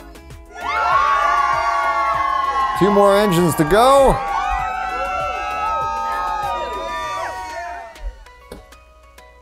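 Crowd of children cheering and shouting at a TrackMaster toy train race, loud and excited, with an announcer talking over the noise throughout.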